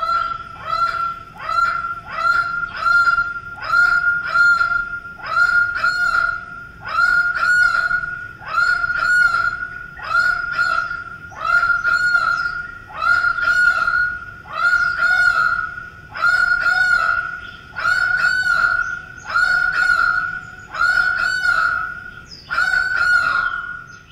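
A Waco bird from the Chocó region of Colombia calls over and over, loud, harsh honking notes in evenly spaced bursts that repeat rhythmically for over twenty seconds, close and clear, without voices.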